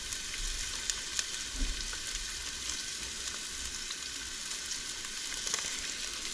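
Onions frying in a pan, a soft continuous sizzle with faint crackles and a few small pops, quiet and steady with no voices.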